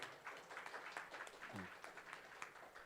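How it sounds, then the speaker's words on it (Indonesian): A modest audience at the launch of the Pusat Prestasi Nasional website claps in scattered, uneven bursts, faint and somewhat distant, with a brief voice murmuring partway through. "Tepuk tangan semuanya."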